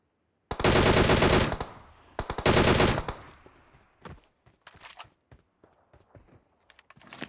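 Automatic gunfire in a battle royale video game comes as two loud sustained sprays of rapid shots, followed by scattered shorter bursts and single cracks, with no talking.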